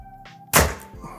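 An arrow from a compound bow strikes an archery target during peep-height checking, a single sharp thunk after brief quiet, with a short decaying thud.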